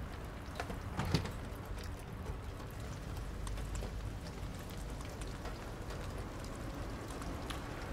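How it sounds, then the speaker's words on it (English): Steady rain in the video game Detroit: Become Human, a continuous broadband patter with scattered nearby drops falling on surfaces, fairly even throughout without speech. "It's still raining."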